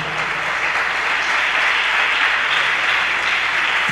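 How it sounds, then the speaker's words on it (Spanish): Loud, continuous congregational applause during a Spanish-language church sermon, many hands clapping in an even roar from start to finish. "Denle un aplauso al Señor"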